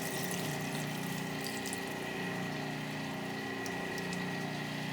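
Water runs steadily while chickpeas are rinsed for hummus, a constant even rush with a low pump-like hum underneath and no pauses.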